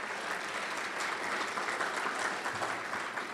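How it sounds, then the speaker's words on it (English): An audience claps at an evening program, a steady broad round of applause sustained throughout at moderate distance, with no voices over it. "Big round of applause."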